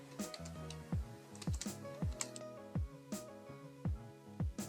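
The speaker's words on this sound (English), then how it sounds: "Go to the URL bar and type in tiktok.com/signup" Keys on a computer keyboard clack in a quick, irregular run of distinct taps as a web address is typed into a browser's address bar, close and fairly quiet with no voices.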